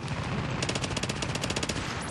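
Rapid automatic gunfire in The Division, a dense continuous burst of shots close by, loud and unbroken for the whole stretch.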